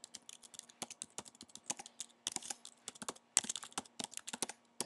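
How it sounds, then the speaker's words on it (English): Rapid computer keyboard typing while an IP address is entered for NFS datastore setup, crisp close clicks in quick irregular bursts with brief pauses, no voices. "typing in the IP address"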